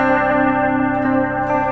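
A distorted electric guitar sounds a major second interval, two notes together in a steady, sustained tone with a chorus-like shimmer, loud and close, no voices.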